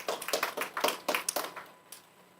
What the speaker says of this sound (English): So let's congratulate our communications and PR by giving her a round of applause as well.